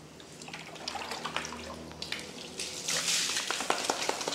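Water runs from a tap while a small dog is bathed, a steady splashing hiss with scattered drips that grows louder toward the end, with no voices over it.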